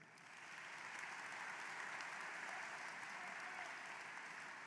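Sustained applause at a high school graduation ceremony honoring retiring staff swells quickly from a crowd and holds as an even, dense wash of clapping.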